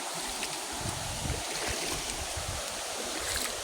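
A river stream flows outdoors, giving a steady broadband rush of running water with low rumbling and some wind buffeting, and nobody talks over it.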